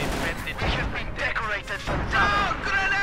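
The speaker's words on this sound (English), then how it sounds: "Looks like the howitzer about to sound its voice." Howitzer artillery fires in the World War II strategy game Company of Heroes 2, dull booming shots and rumble mixed under continuous excited commentary from a caster.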